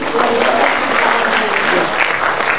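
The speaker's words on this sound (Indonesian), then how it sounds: "Beli tepuk tangan dulu dong pada sesi kita hari ini" An audience at a public lecture and book discussion applauds loudly and steadily throughout, a dense wash of clapping hands.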